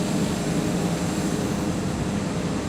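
Steady propeller engine drone from a small, fast prop plane in a flight simulator game, a continuous droning roar with a dense rumbling low end and no voices.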